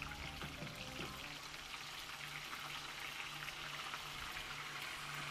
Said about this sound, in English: and then we're gonna fry these things